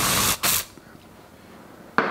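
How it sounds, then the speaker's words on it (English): Aerosol bug spray hissing in two short bursts close by, then a quiet pause before another brief spritz, in a relaxed outdoor evening setting. "We're gonna spray the bugs."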